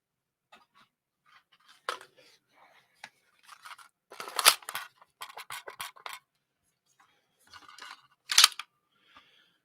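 A rifle magazine is handled and seated into a Kodiak WK-180C lower receiver, with a series of sharp close metallic clicks, scrapes and snaps scattered over a quiet background.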